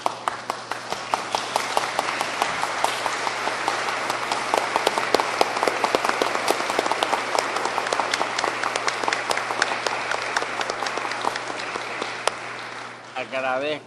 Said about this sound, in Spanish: le pido a la concurrencia que lo recibamos de pie con un fuerte aplauso